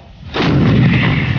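A single heavy artillery shot booms out suddenly after a brief quiet, its deep roar hanging and rolling on afterward.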